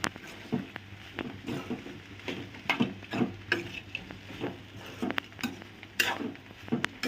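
Chiyalu made from fried idli pieces being stirred and fried in a pan, with irregular scraping and clinking strokes over a faint sizzle, close and moderately quiet, with no talking.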